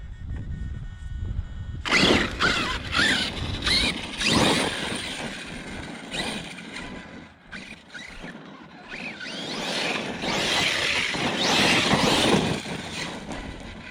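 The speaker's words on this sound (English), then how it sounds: "Hear it humming away." An electric RC monster truck, an Arrma Kraton V4 or Traxxas Sledge, whirs with its motor, the hum rising and falling in short bursts as it accelerates and brakes, fairly close and without talk.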